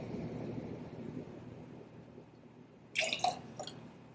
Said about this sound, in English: some water